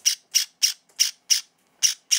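Java sparrows give a string of about eight sharp, evenly spaced squawks while begging for food, close and fairly loud with short silences between calls.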